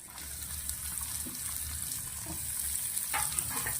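Coarsely ground spice mix, green chillies and onion fry in hot ghee for a batch of potato poha snack, giving a steady close sizzle with a few sharper stirring scrapes near the end.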